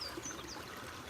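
Clear stream water flows and trickles steadily outdoors, a soft continuous burble heard fairly faintly with no speech.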